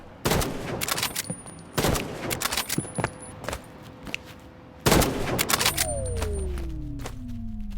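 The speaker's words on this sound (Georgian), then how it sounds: "აი, სროლის ხმა." Bursts of rapid gunfire in the video game Rivals crackle in separate volleys, each followed by pauses, then a falling whistling tone fades out at the end.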